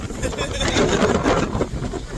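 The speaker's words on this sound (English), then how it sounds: "So windy, beautiful day." Steady wind rushing and buffeting, with a broad, continuous roar close to the listener and no clear voices over it.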